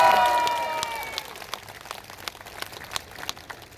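A crowd at a political rally in Gwanghwamun, Seoul, claps and applauds, loud at first and thinning into scattered claps, with a drawn-out whistle or cheer at the very start.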